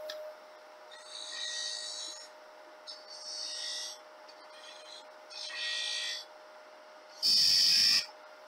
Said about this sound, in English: I'm going to continue with the spindle gouge and start